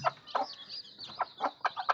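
Chickens in a coop give a series of short, clear clucks, about eight in two seconds, irregularly spaced and close by.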